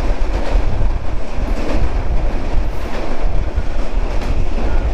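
A moving passenger train, running late on its way to Beas Junction, rolls loudly on the rails with steady rumbling and rhythmic clickety-clack, close and continuous with no talk.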